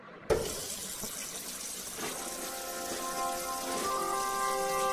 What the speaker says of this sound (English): Now let's wash my hands and turn on water tap.